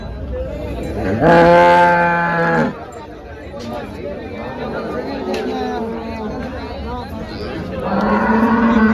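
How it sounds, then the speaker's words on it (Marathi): Gir cows at a cattle market, one loud close moo near the start and another lower moo near the end, with crowd chatter and people talking throughout. "गीर गाय आलेली बाजारामध्ये"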